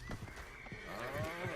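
In Red Dead Redemption 2, a horse gives a quavering whinny while its hooves clop nearby, fairly quiet and with no talk over it.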